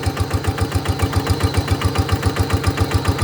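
An RT100 walking tractor engine runs a shaft-driven water pump, its single cylinder thumping in a fast, steady, loud rhythm close by, with a mechanical rattle over the pulses.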